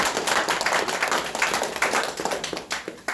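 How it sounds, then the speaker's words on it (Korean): A crowd at a Korean political party rally claps together, a loud, close, uneven patter of many hands that rises and falls in short waves. "자, 박수 한번 치십시오"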